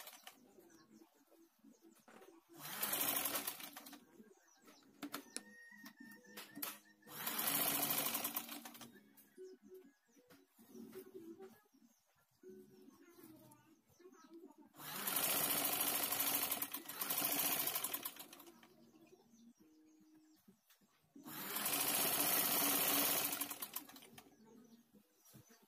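A sewing machine stitches a dress in four loud, steady runs of several seconds each, separated by quiet pauses with faint handling noises.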